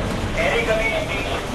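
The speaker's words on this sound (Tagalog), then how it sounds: "Malakas ang ulan?" Heavy rain falls steadily outdoors as a continuous hiss, with speech-like sounds mixed in throughout.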